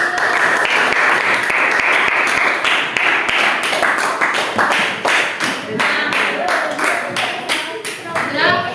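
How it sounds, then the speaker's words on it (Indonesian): Classroom applause for a student group after a science presentation on the circulatory system, many pupils clapping steadily and loudly for several seconds, with some voices mixed in. "silakan kelompok 4 boleh juga berikan tepuk tangan"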